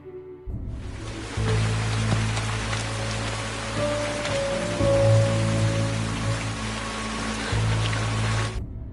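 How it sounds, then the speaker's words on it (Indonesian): Heavy rain pours down in a steady, dense hiss, loud and continuous throughout, with a low rumbling undertone and no voices. "di tengah deras hujan"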